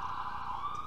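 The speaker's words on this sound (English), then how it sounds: "Ooh, sorry, lots of sirens." Emergency vehicle siren wailing outside a home in Hartford, a steady high tone heard faintly at a distance for a brief moment, with no talk.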